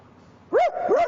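A human voice imitates a rich household's dog barking, a quick pair of rounded woofs, close and clear, following a quiet moment.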